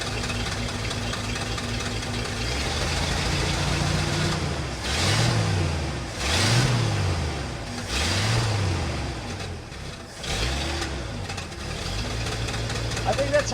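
A 1974 Ford F-250 Ranger SuperCab engine idles while warming up with the choke still closed, a steady low rumble that dips and swells in slow, repeated surges over continuous background noise.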